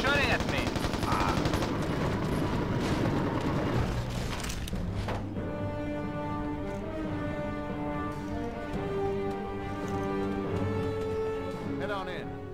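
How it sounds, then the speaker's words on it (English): Enemy soldiers firing guns at the player in the open-world shooter Mercenaries: Playground of Destruction: rapid bursts of automatic gunfire, dense and loud for a few seconds, then giving way to steady game music as a voice talks over it. "They're shooting at me."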